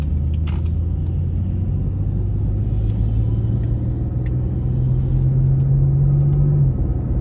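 A 2018 BMW 440i Gran Coupe drives in Sport Plus mode, its engine a steady low rumble heard from inside the cabin, with pitch slowly rising under constant road noise.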